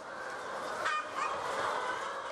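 A few Korean native chicken clucks and squawks over a steady murmur of many birds in the background.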